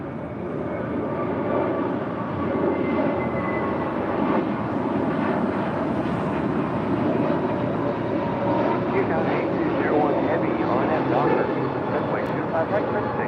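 A JetBlue Airways airliner passes with a steady, moderately loud engine rumble and rush that holds evenly throughout.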